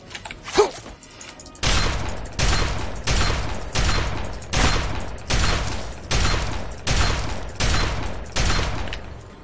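Shotgun gunfire in Fallout 3, about ten loud evenly spaced blasts roughly every three quarters of a second, each a sharp boom with a short tail, after a brief quieter moment with a small cry.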